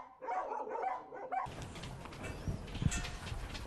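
Dogs bark and yip at a shelter for homeless dogs, several animals calling in overlapping bursts, fairly faint and somewhat distant, with clattering noise in the second half.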